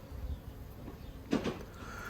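Honey bees buzz over a hive frame in an Australian apiary, a faint, low, continuous hum close by, with a brief louder rustle partway through.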